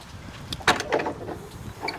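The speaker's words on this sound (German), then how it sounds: "Ihr öffnet die Tür." A toilet door at a small campsite opens with a short sliding, knocking clatter, followed by lighter rattles and clicks; the sounds are close and fairly quiet, with no talking.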